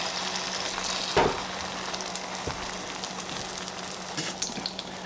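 An egg and mashed eggplant mixture slides into a hot pan for an omelette, giving a soft, steady sizzle throughout with a brief louder hiss near the start.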